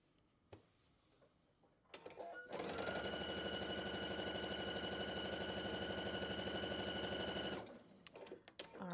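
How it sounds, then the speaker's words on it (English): Sewing machine stitching quilt block pieces, running steadily for about five seconds with a fast, even mechanical whir and clatter, framed by quieter handling noises before and after. "I'm going to sew this real quick."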